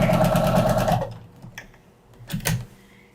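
A domestic sewing machine runs in a fast, steady stitching rhythm for about a second and then stops, followed by a few scattered clicks and brief knocks from handling the machine.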